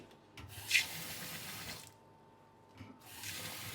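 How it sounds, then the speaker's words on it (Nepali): Cold water runs from a tap in bursts, splashing and hissing into a sink as sushi rice is rinsed, with soft rubbing and swishing between flows. "यसलाई चाहिँ अब हामी यहाँ पानीमा हाल्छु, चिसो पानी।"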